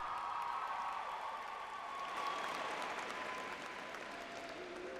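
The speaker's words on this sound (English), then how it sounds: "celebrate your parents and guardians with a round of applause as they stand to be recognized" A high school graduation audience applauds for parents and guardians, a dense wash of clapping from a large crowd, steady and moderately distant, holding at a constant level for several seconds.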